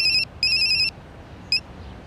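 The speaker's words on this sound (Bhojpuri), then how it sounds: "अरे फोन आइल बा, उठाई।" A mobile phone ringtone sounds nearby, two long electronic warbling bursts and then a brief third one, clear over a quiet room.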